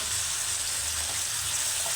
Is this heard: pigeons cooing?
no